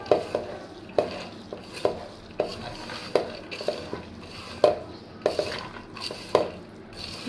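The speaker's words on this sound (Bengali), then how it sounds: "এখন আমি এই ডালটা মাখবো" Cooked dal mixed with sliced green chillies is mashed by hand in a bowl, giving a steady series of close, wet squelching and knocking pulses roughly every second, with no talk.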